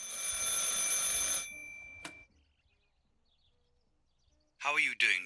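A telephone rings in the video game Martha Is Dead: a bright, sustained bell-like ring up close that stops abruptly and is followed by silence, then brief speech.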